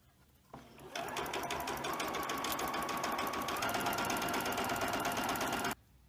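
A sewing machine stitching fabric for a Simplicity 1613 pattern runs in one loud, close, steady burst of rapid needle clatter lasting about five seconds, starting and stopping abruptly.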